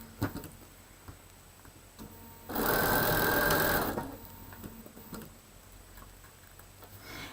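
A sewing machine stitches a Hunter's Star quilt block along a quarter-inch seam line, one loud steady burst of running lasting about a second and a half amid quiet, with faint ticking around it.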